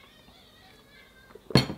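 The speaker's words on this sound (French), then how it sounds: "Pourquoi tu miaules comme ça?" After a quiet room with a faint clink of dishes, a cat lets out one short, loud meow close by at a meal of chicken and rice.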